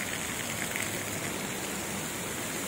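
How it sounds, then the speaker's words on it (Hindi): Heavy rain pours down steadily in a continuous dense hiss, loud and unbroken, with no voices over it. "इधर भी बहुत ज़ोर से बारिश हो रही है"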